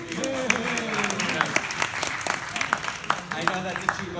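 Applause from an audience at a Queens, New York borough president candidates' forum, steady clapping with some crowd noise carrying through the whole stretch at moderate loudness.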